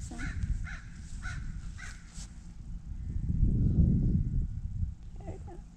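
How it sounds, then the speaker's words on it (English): A crow caws about four times in quick succession, fairly near, followed by a low rumbling background noise. "There's a bird"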